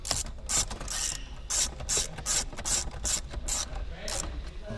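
A ratchet tool clicks in quick repeated bursts while tightening stereo bracket screws inside a Subaru WRX dashboard, close and fairly loud, with short pauses between runs of rapid pawl clicks.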